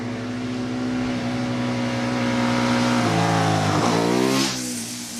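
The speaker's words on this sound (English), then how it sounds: "The engine is a 990cc V-twin, and it makes about 115 horsepower" KTM 990 SMT motorcycle with a 990cc V-twin engine, idling with a strong steady throb, then blipped with a sharp rising rev that falls back, loud and close.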